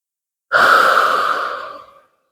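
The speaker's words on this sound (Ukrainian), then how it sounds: "Глибокий вдих та видих." A single deep breath drawn in and let out slowly during a post-workout cool-down, close and clear, with no talking.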